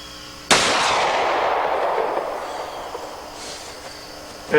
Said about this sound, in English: shooting black powder, there was no need for a real fast reload, because you can't see anything after you shoot these things